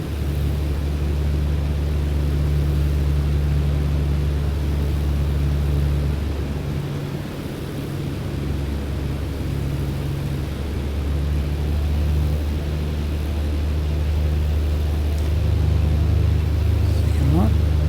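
BlackBox BN-2 twin-propeller aircraft in Microsoft Flight Simulator 2020, flying slowly with flaps lowered, gives a loud, steady, low engine drone that holds throughout, easing slightly midway, with a brief rising whine near the end.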